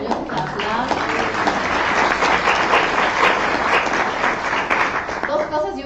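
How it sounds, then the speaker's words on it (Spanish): Conference audience at a regional anti-corruption event in Latin America breaks into loud sustained applause, thick rapid clapping filling the hall for about six seconds, with voices and murmurs mixed in beneath it. "Aplausos."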